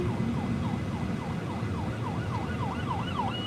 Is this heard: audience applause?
no